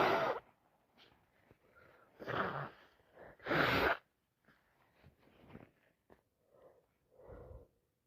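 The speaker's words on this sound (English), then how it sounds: "Sneezing is just getting wetter and wetter and faster and harder." A person with a cold sneezes several times, with loud bursts and quieter snorts and sniffly breaths between them, close and alone.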